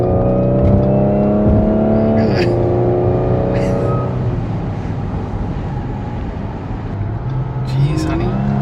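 An Audi SQ5 driven hard through a tight corner, its engine droning steadily with a rising and falling whine as the tyres load up, loud and close from inside the cabin.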